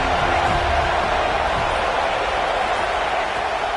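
A football stadium crowd gives off a steady, dense roar that holds loud and unbroken throughout, with no single voice standing out.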